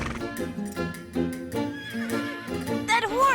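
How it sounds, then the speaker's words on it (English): A horse neighs amid a lively cartoon music score, its whinny rising and wavering loudly near the end of the short passage, with no talk over it. "That horse! It sounds like... Tornado!"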